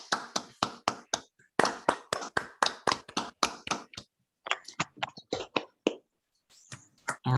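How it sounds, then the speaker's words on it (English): A few people applaud a just-finished invited talk at an online conference, producing scattered, close-miked claps in irregular bursts with short gaps and no crowd roar. "maybe we can mute our microphones and give a round of physical applause"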